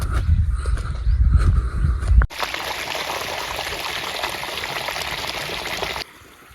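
Water gushes steadily from a farm pipeline into an onion field, a constant close rushing flow that starts abruptly after a burst of wind-buffeted low rumble and cuts off near the end.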